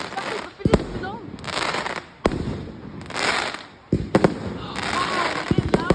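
Bonfire night fireworks and firecrackers in Beverley on the 5th of November, a loud run of sharp bangs and crackling bursts with whistling rockets, people exclaiming throughout.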